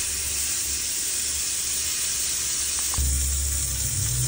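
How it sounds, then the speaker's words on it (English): Steak sears in a hot pan with butter, giving a steady, dense sizzle and hiss close to the pan. A deeper, fuller frying roar swells in partway through, and no one speaks. "once your pan is hot, put your steak down on one side and leave it for 5 to 7 minutes"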